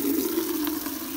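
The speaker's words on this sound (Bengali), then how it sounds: "পানি নিয়ে দিচ্ছি" Water is poured over freshly gathered kumir shak greens to wash them, a brief, close, continuous splash lasting about a second.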